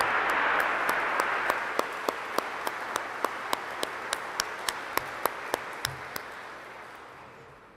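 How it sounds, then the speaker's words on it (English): An audience applauds at an honors convocation for summa cum laude graduates, a dense sustained clapping that swells and then slowly fades, with a sharp ringing ping striking at regular intervals throughout. "Let's give a round of applause to all earning summa cum laude honors."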